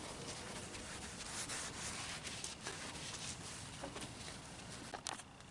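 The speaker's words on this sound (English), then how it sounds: "Wipe off our light here." A cloth rubs over a polished car headlight lens on a Sequoia, giving soft, quiet, continuous swishing and scrubbing strokes, close up with no voices.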